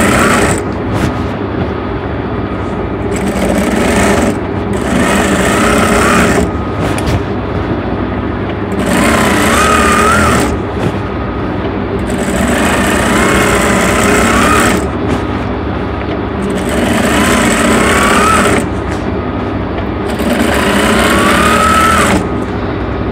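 A sewing machine stitches a lungi in several motor-driven bursts of rapid whirring and clattering, separated by short pauses, loud and close throughout.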